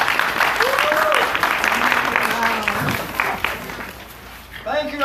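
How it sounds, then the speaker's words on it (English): Applause from an outdoor festival crowd at an aikido demonstration, a broad wash of clapping that carries on throughout under a voice on a loudspeaker, fading slightly toward the end. "big round of applause"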